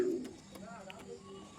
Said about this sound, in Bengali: সব পায়রাগুলোকে কিন্তু বাইরে ছেড়ে দিয়েছি